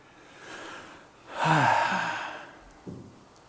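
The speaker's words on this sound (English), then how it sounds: "by stopping to take that breath, a conscious breath" One slow, deliberate breath taken close to the microphone: a soft intake, then a fuller, audible sigh of release, ending with a short puff.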